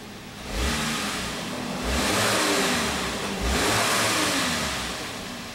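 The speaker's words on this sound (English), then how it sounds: "Let me rev the engine and you can see what happens when I rev it." The engine of a 2015 VW Passat with camshaft timing faults is revved three times in a row. Each rev swells up and falls back to idle, close and fairly loud, with no voices.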